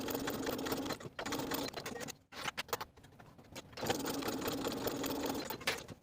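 Sewing machine stitching a basting seam along the bottom edges of a fleece sweater yoke, running in steady motor bursts with two short pauses in the middle, close and fairly loud.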